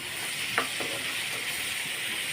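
Sweet pumpkin fries in a pan with a continuous, even hiss of sizzling oil and a few faint scrapes of stirring, heard close with no talking.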